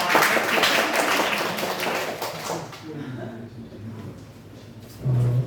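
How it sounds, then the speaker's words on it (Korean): A church congregation claps in welcome during a Sunday worship service, with a burst of applause for the first few seconds that fades out, followed by quieter room sound and some voices. "박수로 환영해 주시기 바랍니다."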